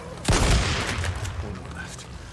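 Gunfire bursts out in a sharp close crack followed by a rolling volley of shots and echoing reports that slowly trail off.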